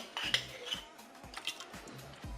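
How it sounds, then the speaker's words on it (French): A plastic whisk works mustard in a Cookeo multicooker pot, giving a run of light clicks and scrapes against the pot in an uneven rhythm, close and fairly quiet, with no talking. "Je vais mélanger. On a un fouet pour ça, de plastique."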